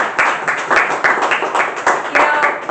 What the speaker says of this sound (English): He should get a round of applause.